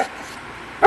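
A dog gives one sharp, loud bark right at the end, up close and alone after a quiet stretch.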